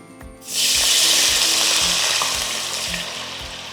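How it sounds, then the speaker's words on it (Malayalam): Water is poured into a hot cooking pan to boil sago for pineapple payasam. It sets off a sudden loud sizzle that stays strong and steady, then eases slightly, over faint kitchen clatter. "അതിനായിട്ട് അല്പം വെള്ളം ഒഴിക്കാം"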